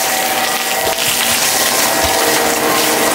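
A loud, continuous rush of water gushing steadily, like a strong hose or pump spray, close by and without pause, as water is poured onto garden trees.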